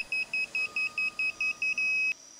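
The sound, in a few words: buzzer of Series 7000 digital torque wrench signalling cycle end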